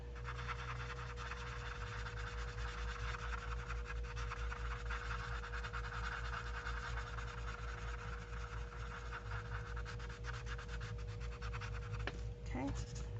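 A blending pencil rubs steadily over colored pencil on paper in a mixed media drawing, producing continuous close, soft scratching strokes over a low electrical hum for the whole stretch.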